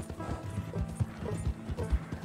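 Hooves clip-clop steadily beneath a tired horse on a trail in Red Dead Redemption 2, a soft, fairly close rhythmic plodding with a faint creak of tack.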